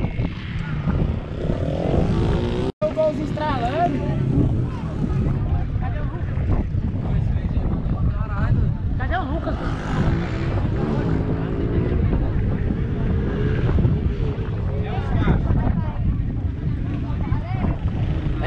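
A motorized bicycle engine at a bike meetup revving with a buzzing, motorcycle-like drone, rising and falling, heard under loud, frequent talking from a group of people nearby.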